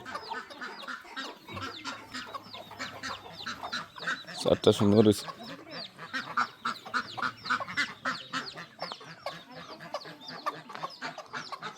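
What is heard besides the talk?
chickens clucking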